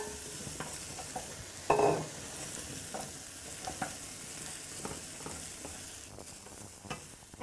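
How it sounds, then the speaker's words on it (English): Mushrooms tipped into a pan of hot pancetta fat and stirred, a steady sizzle under scraping spoon strokes and occasional louder clatters, close and with no talking. "Alright, going to add my mushrooms now."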